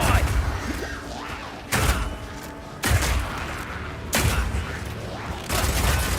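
Power Shot crossbow fired in the video game Path of Exile 2: four heavy, sharp shots about a second apart, each with a crisp crack and a short ringing tail, over a steady bed of game ambience.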